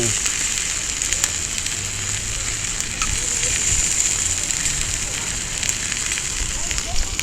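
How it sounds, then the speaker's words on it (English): Cabbage, onion and jalapeno fry in a cast iron pan with a steady, dense sizzle and crackle that holds loud and close throughout, with no pauses. "Fried cabbage, onion, jalapeno."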